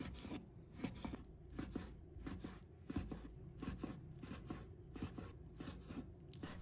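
A knife cuts pork belly into strips on a cutting board, a steady series of quick, close rasping slices with no talking.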